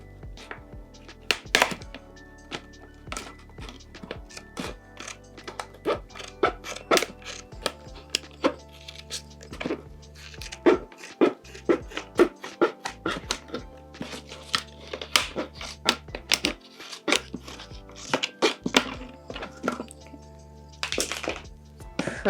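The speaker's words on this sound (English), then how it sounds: "It's not the right size, so I'm just going to cut the top off the plant pot." A plastic plant pot has its top cut off, producing repeated irregular snips, cracks and thunks close up, some sharp and some muffled, scattered unevenly throughout with no talk.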